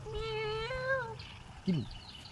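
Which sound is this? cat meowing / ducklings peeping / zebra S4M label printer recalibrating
cat meowing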